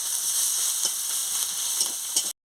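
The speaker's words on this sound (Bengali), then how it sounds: "দিয়ে ভালো করে মশলাটাকে আমি ভেজে নিচ্ছি" Bay leaf, chili, ginger paste and chopped onion fry in a pan with a dense, even, close sizzle and occasional faint stirring taps. The sound cuts off abruptly.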